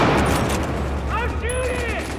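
Gunfire in Battlefield 4 rattles in a thick, loud barrage, and a short voice briefly rises over it partway through.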